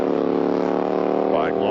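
A Harley-Davidson drag bike launches down a drag strip at an All Harley Drags event at Kil Kare Dragway in 1995, its engine roaring loudly and steadily with a rising note near the end as it pulls away.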